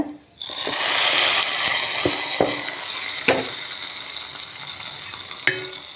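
A hot tempering of mustard seeds, dried chilli and curry leaves poured into cucumber yogurt pachadi, a loud sudden sizzle that slowly fades, with a few sharp metallic clinks of a pan or spoon close by.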